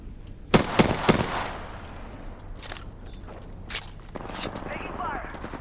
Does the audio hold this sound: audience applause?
no